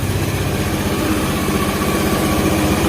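A Honda Beat scooter engine idles close by, a steady rapid putter with an even mechanical rhythm holding for the whole stretch.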